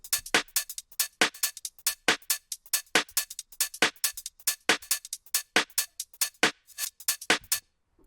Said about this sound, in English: I've got a drum rack, which has just got a collection of my go-to snares and claps.